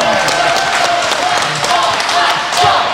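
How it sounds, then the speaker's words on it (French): Loud, dense audience applause at a live podcast event in Rennes, a continuous wash of claps close by and mixed with crowd noise and a few voices. "applaudissez-le"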